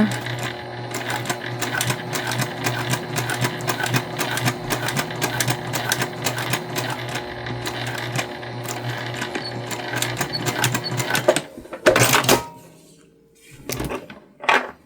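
A sewing machine stitches fabric for a baby pattern in a fast, even mechanical whir with a rapid needle rhythm. It runs close for about eleven seconds, then stops, and a few short handling clatters follow.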